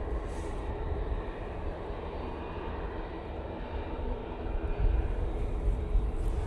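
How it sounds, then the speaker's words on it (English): An Airbus A380 passing low overhead near Manchester Airport, a dense low rumbling roar that stays steady and builds slightly louder toward the end. "Brussels Airlines A380 about to pop over the road"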